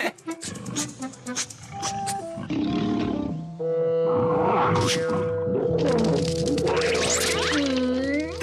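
A giant bear lets out long, loud roars and grunts that rise and fall over several seconds, with rumbling layered cartoon sounds and a tonal musical background.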